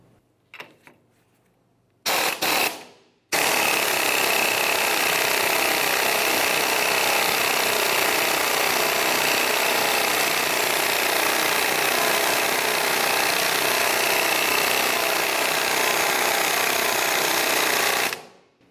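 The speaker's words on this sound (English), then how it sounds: "we'll continue turning our 21mm lug nut until it looks as though that base is directly up against the hub" Ratchet turning a 21mm lug nut to press a wheel stud into the hub of a 2004-2015 Nissan Titan, a few short clicks and then a long continuous loud mechanical grinding rattle that stops abruptly near the end.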